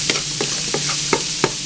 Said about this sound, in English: Stir our beans.